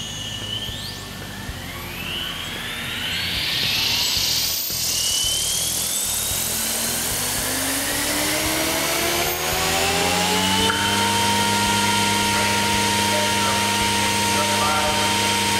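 A Goblin 500 RC helicopter spins up to half stick in normal mode, its motor and rotor whine rising steadily in pitch and settling into a loud, even drone.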